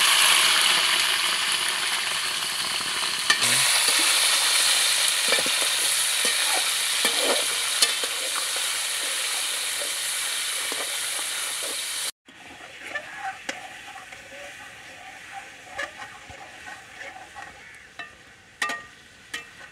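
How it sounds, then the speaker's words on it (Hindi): Chicken sizzles in hot ghee, a loud continuous hiss with scattered pops and crackles; after a cut the frying continues quieter with intermittent spits and stirring clatter. "घी हमारा गर्म हो चुका है। अभी चिकन डाल देंगे।"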